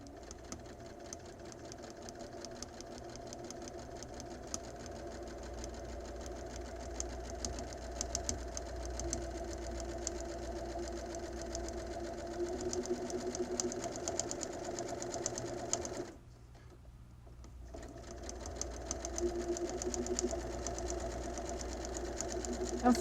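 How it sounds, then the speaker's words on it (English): A sewing machine stitches a pocket side seam at a half-inch seam allowance, running in a steady, close mechanical hum that pauses briefly about two-thirds through, then resumes. "I'm sewing at 1/2 inch seam allowance, and you want to sew all the way up that side seam."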